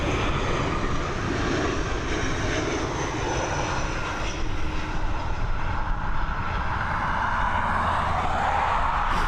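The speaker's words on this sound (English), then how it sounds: "here we have this Iberia Express coming in from Madrid right now" Steady roar of an Iberia Express airliner from Madrid landing at Dublin Airport, a loud continuous broadband engine rush that holds throughout without a break, no talking.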